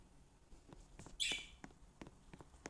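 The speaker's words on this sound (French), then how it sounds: "Désolée s'il y a des bruits d'oiseaux parce qu'il y a des oiseaux chez moi." Faint indoor pet birds at home let out a few soft chirps and one brighter, clearer tweet among light background noises.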